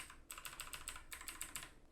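Arrow keys pressed repeatedly on a computer keyboard while navigating the FL Studio mixer, two quick runs of soft, evenly spaced clicks close by, quiet, with no talk.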